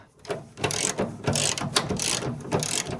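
A ratchet wrench tightening a fuel tank strap bolt on a Toyota RAV4, a close, loud run of rapid clicking strokes repeating in bursts, with no talk.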